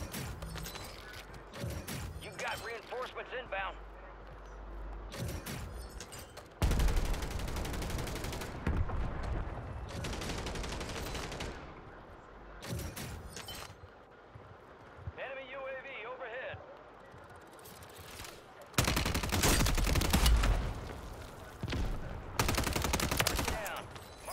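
Sniper and gun fire in a video game, sharp loud shots in bursts among mechanical clatter, with people talking over much of it.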